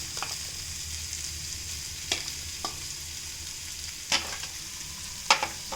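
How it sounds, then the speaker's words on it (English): Methi frying in a pan gives a steady close hiss of sizzling, broken by a few sharp scraping stirs of the spoon, with no voices. "the methi is fried very well"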